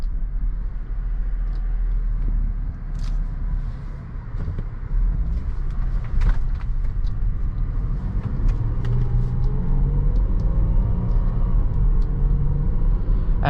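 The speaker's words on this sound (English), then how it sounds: "Going over this gravel road, you know, you feel it a little bit, but it's not too bad." A 2018 Range Rover rolls over a gravel road, heard from inside the cabin as a steady low rumble with faint crunching and occasional ticks from stones under the tyres.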